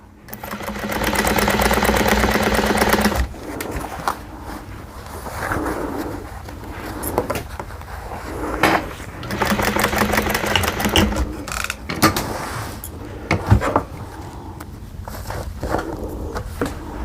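A sewing machine back stitching a quilted seam on a hexagon table runner runs in steady bursts, with a long run at the start, pauses, and further stretches of close mechanical whirring and tapping.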